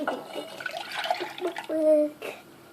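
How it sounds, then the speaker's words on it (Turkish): Milk pours steadily into a pot for about a second amid clinks and kitchen handling noises, with talking nearby. "Bu arada sütümüzü de tenceremize alıyoruz."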